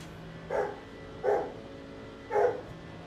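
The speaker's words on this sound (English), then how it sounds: "so you might hear the dogs in the background." Dogs bark in the background of a home during a GT3 sim-racing stream, three muffled barks spaced about a second apart, distant and fairly quiet under a steady room hum.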